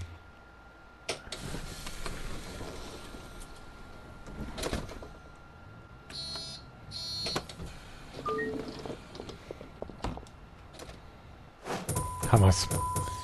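In Bus Simulator, a city bus door hisses and slides shut with pneumatic clunks, several mechanical door and latch sounds spread across a quiet idling interior, with someone talking between them.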